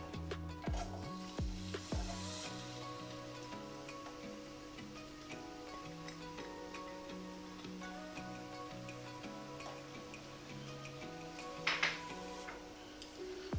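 Onion dropped into a pot of hot oil on the stove, for ackee and saltfish, starts with a few clunks, then a quiet, steady sizzle continues. A brief louder burst comes near the end.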